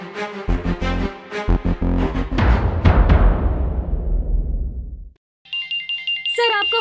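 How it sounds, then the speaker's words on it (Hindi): A telephone ringtone signalling an incoming call in a drama scene, a loud melodic ring playing continuously, briefly stopping, then resuming with electronic tones. "सर आपका फोन आपके घर से"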